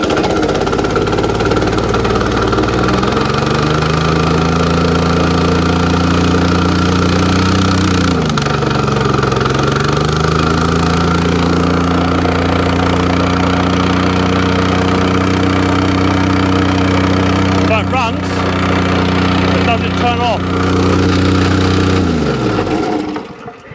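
A Honda GX small engine runs steadily after a choke start, a loud, close, continuous idle hum whose pitch dips and settles a few times before it cuts off at the end.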